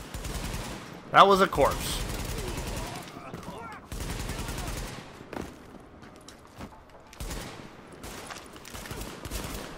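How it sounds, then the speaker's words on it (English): Gunfire bursts in The Division video game, a loud cluster of rapid shots near the start followed by scattered reports, with someone talking over the action. "Yeah, I shot at a corpse."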